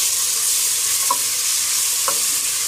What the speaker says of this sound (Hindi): अब मैं इसमें जिंजर गार्लिक पेस्ट ऐड कर दूँगी और इसे थोड़ा सा फ्राई कर लूँगी।